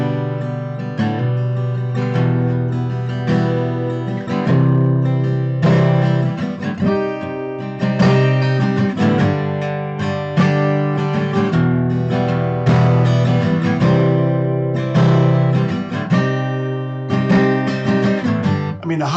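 Guitar strums a chord progression built around a minor four chord, its sustained chords changing every second or two over about nineteen seconds, loud and clear with no talking.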